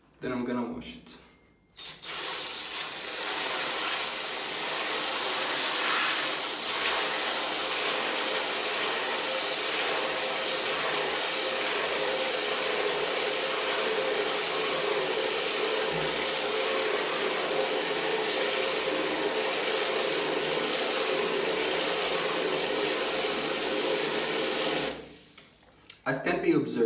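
Water sprays and rushes steadily over a 1000-gram soil sample being washed in a container, a continuous hissing wash lasting over twenty seconds before stopping abruptly, with no talk.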